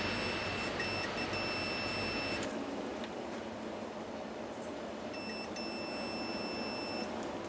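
A multimeter on continuity test beeps steadily while its probes touch a shorted diode on an amplifier board. A thin, continuous high tone stops, leaves a quiet gap, then sounds again.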